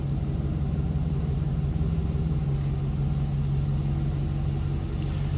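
A 2005 Chevrolet SSR with a 6-liter V8 idles steadily from behind, a low, even rumble that holds at a constant, close, loud level with no talking over it.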